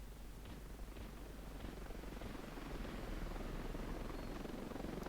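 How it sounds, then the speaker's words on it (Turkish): An enemy helicopter in the video game Ravenfield drones steadily with a chopping rotor and low engine rumble, loud and continuous throughout with no voices over it. "Yalnız o bir düşman helikopteri mi öyle orada?"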